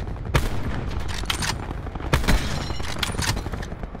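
Rapid gunfire bursts from a Paladins shooter match, dense and continuous with sharper louder volleys standing out, no talk over it.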